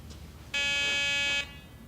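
A Garrett PD6500i walk-through metal detector sounds its alarm once, a loud, steady electronic buzz lasting just under a second, rich in harmonic overtones, set between quiet room tone.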